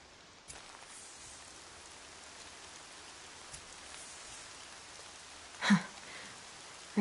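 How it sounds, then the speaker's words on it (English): Rain in the video game Horizon falls as a soft, steady hiss with scattered drops, faint and continuous, broken briefly by a couple of louder knocks. "Rain's not so bad."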